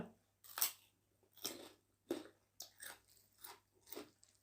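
Crispy Thai pork rinds (khaep mu) crunched while eating, served with spicy som tam and khanom jin; about seven sharp, close crunching bites in an uneven rhythm, fairly quiet, with no talk.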